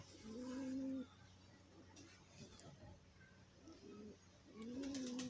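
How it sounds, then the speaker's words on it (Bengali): Soft, low pigeon coos come in short phrases, two near the start and end with a quieter one between, against faint background noise. "দেখছেন আমার কবুতরগুলো"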